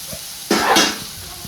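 Tomatoes and onion cooking in a pan for a drumstick (shevga) bhaji give off a short burst of hissing sizzle that swells midway and then fades back to quiet, with no talking.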